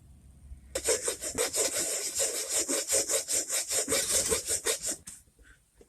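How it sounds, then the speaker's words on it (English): A cutoff wheel grinds grooves along cracks in a broken Harbor Freight vise, a close, harsh, rhythmic scraping rasp that pulses steadily for about four seconds and then stops. "I think I'll take the cutoff wheel and groove these out a little bit"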